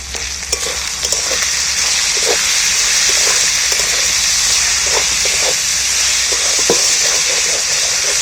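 Jackfruit curry sautéing in a pan gives a loud, continuous sizzle and hiss close by, with scattered clinks and scrapes of stirring throughout.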